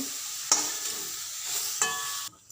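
Cauliflower fries in a pan with cumin powder while a spoon stirs it, two sharp scrapes against a soft steady sizzle before the sound cuts out abruptly, close and without speech.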